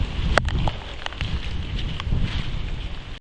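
Heavy rain and strong wind in a rural area, a dense roaring wash of rain and gusting wind with buffeting on the microphone and a few sharp drip or knock sounds, continuous throughout.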